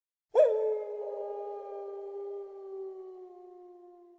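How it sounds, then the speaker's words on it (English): A single wolf howl, long and steady, rises sharply and then holds a smooth tone for several seconds in an otherwise silent forest setting. "Once they heard a wolf in the distance."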